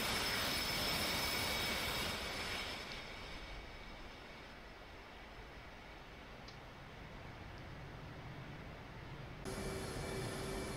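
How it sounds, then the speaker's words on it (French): F/A-18C jet engine spooling on the runway in the DCS World flight simulator game, a steady loud roaring whine that dips in the middle then swells again, with no talking. "Voilà le F-18 au seuil de la piste 31 de Batumi, paré au décollage."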